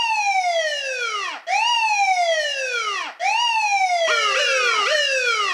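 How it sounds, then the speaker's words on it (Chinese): A police car siren from a children's cartoon wails loud and close in repeated rising-and-falling sweeps, then shifts to quicker, overlapping yelps near the end. "我是一台帅气的车子，只要遇到坏人，我就会大声叫。"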